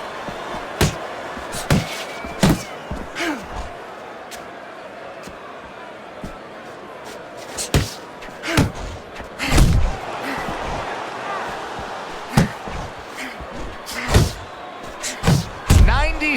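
Heavy punches thud and slap repeatedly in a Fight Night boxing game bout between Tyson Fury and Ivan Drago, sharp irregular impacts landing in bursts under a steady crowd bed with a commentator talking over them.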